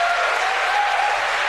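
Audience clapping at a political debate, a steady, dense wash of applause from a large crowd held at an even level throughout.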